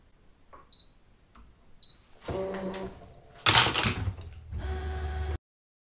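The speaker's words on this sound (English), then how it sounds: "So now I'm just going to cut them all out." A Brother ScanNCut machine cuts out pieces: a few short electronic beeps first, then mechanical whirring and clattering of the carriage and blade in bursts, close and loud, ending abruptly.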